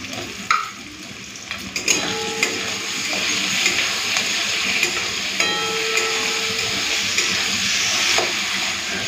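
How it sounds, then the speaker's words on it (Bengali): Shrimp fry with lightly browned onions in a pan, giving a steady sizzling hiss with occasional stirring clatters and scrapes, close and continuous. "পেঁয়াজটা হালকা ভেজে নিয়েছি, চিংড়ি মাছগুলো দিয়ে দিই,"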